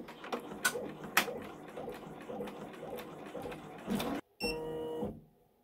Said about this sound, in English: Next, it's going to do a placement for a little picture frame.